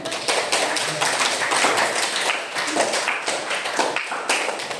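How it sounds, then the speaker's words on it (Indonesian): A classroom group of students clapping after a lesson, a quick run of sharp, uneven hand claps close by, lively and irregular, with no talking over it. "Tepuk tangan."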